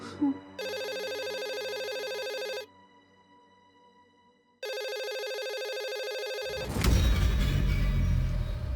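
A landline telephone at a police station rings in two long bursts separated by a pause, loud and close, followed by a burst of noisy background clatter.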